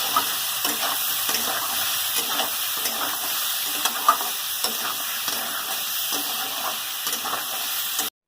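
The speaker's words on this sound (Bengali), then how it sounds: "যে তেল আছে তার মধ্যে এঁচোড়টা ভেজে নেব" Raw jackfruit pieces fry in refined white oil left over from frying potatoes, giving a steady, close sizzle that runs the whole time with light stirring taps and scrapes scattered through it.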